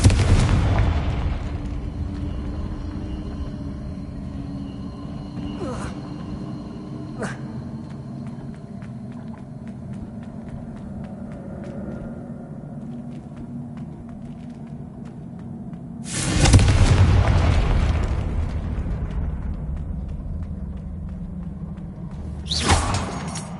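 Explosions from the Confringo spell in Hogwarts Legacy, a deep booming blast at the start, another heavy rumbling burst about two-thirds through and a third at the very end, over a low ambient game background.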